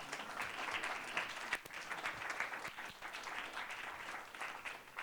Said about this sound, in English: Yeah, that's supposed to get me a round of applause.